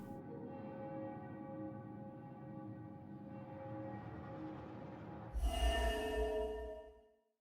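A church bell in the video game Murdered: Soul Suspect, a sustained low tolling hum under ambient game music, then a brighter, louder metallic ring near the end before fading out, with no voices.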